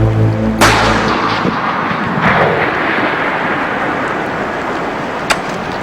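A single loud rifle shot fired at a bull moose while hunting, a heavy boom followed by a long rolling echo across open country, with no talking.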